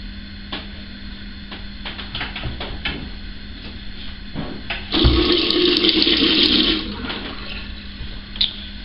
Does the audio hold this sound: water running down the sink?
yes